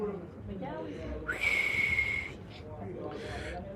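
A single thin whistle, a steady high tone lasting under a second, comes mid-clip over breathy background noise and a nearby voice.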